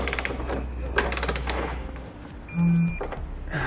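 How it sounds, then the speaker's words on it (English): A socket wrench with a 19mm socket tightening trailer hitch bolts on a 2014 Nissan, rapid ratcheting clicks in quick bursts, close up, followed by a short metallic clunk and a brief hum, no talking. "And we'll take a 19mm socket and tighten all of our bolts down."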